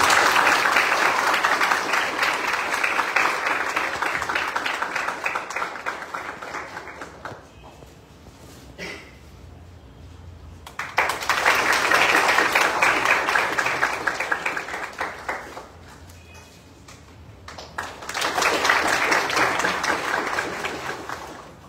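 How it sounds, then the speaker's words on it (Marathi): An audience at a guest lecture by an IAS officer bursts into loud sustained applause in three long waves separated by brief lulls, many hands clapping together in a hall. "सगळे जोरदार टाळ्या वाजवा"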